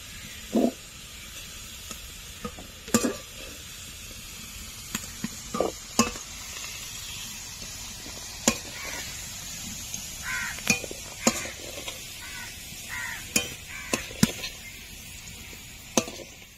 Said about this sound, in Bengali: আলুগুলো খুব বেশি ভাজবো না, তাহলে কিন্তু একদমই সেদ্ধ হয়ে যাবে।